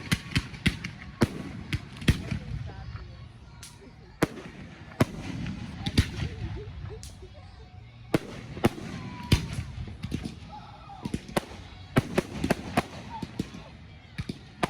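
Fourth of July fireworks in Madison, Wisconsin burst repeatedly at moderate distance, sharp booms and crackles arriving in irregular clusters while people talk nearby.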